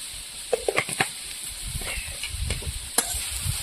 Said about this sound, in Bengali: আর একটু নাড়াচাড়া দিয়ে নেবো।